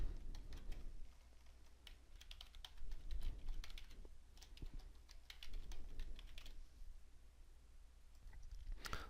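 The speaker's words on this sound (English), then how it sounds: "I can go here and type in my Salesforce user ID and password" Someone types a Salesforce user ID and password on a computer keyboard, producing steady bursts of quick, close key taps with short pauses in between and no talking.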